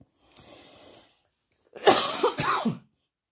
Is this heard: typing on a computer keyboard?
no